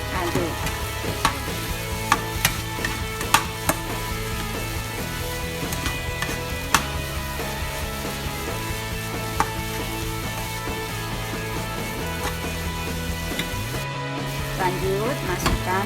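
Omelette sizzling and frying in a pan while being stirred, a steady sizzle with scattered clicks and scrapes of the utensil, background music running throughout.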